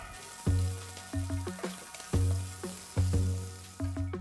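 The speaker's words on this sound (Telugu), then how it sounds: "ఇందులో ఒక టీ స్పూన్ జీలకర్ర చిన్నగా తరిగిన అల్లం ముక్క తరిగిన రెండు పచ్చిమిరపకాయలు వేసి వేయించాలి" Cumin seeds, chopped ginger and two green chillies fry in hot ghee and oil, a steady sizzle punctuated by repeated close clinks of a spoon against the pan in a loose rhythm.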